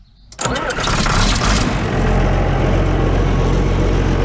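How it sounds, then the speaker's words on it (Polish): Old 40-year-old tractor engine cranks briefly, then catches and settles into a loud, rough, steady idle close by, with no talk over it. "jak odpala stary traktor i zobaczcie"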